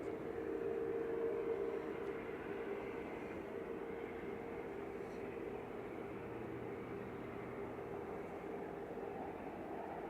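A Qatar airliner taxis at Manchester Airport, a steady distant engine rumble and hum holding evenly throughout with no talk.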